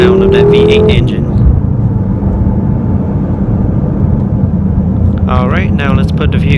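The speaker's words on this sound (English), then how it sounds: "Love the sound of that V8 engine." A 2015 BMW M6 Gran Coupe's V8 engine pulls hard with a rising whine, then settles into a loud, steady rumble while driving, before revving up sharply again near the end.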